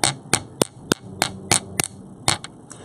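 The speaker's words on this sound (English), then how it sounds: "I'm hammering straight on" A hammer strikes metal jewelry wire for a bracelet or earrings, sharp ringing taps at an uneven rhythm, about ten blows close by, with a faint hum behind them.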